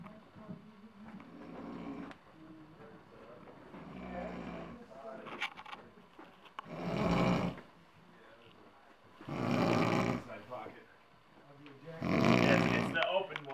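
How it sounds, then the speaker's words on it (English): A man snoring in a recording studio, with long rasping inhales that swell loud roughly every three seconds, interrupted early on by quieter talking nearby. "snoring"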